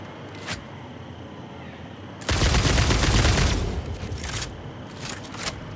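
Rapid automatic gunfire from a weapon in the factory-building video game Satisfactory, a loud sustained burst of shots followed by a few shorter volleys, heard with no talking.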